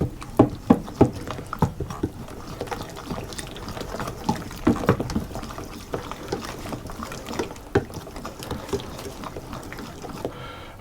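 Beaten egg being stirred into a rich dark ginger loaf cake batter in a bowl, with close, wet sloshing and irregular knocks of the utensil against the bowl, heaviest at the start and easing into softer churning.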